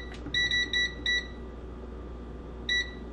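Air fryer control panel beeping as its timer is adjusted: a single short electronic tone, then a quick run of four beeps, a pause and one more beep, clear and close over a low room hum.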